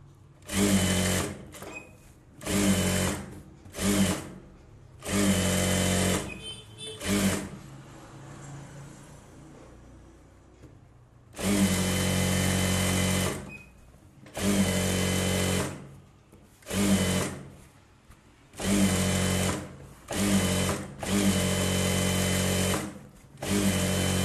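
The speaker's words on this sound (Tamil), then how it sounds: "இப்போ நம்ம சுற்றி ரஃப்பாக தையல் போடுவோம் இல்லையா" A sewing machine runs in repeated short bursts, stitching a blouse with rough tacking stitches, loud and close with brief pauses between runs.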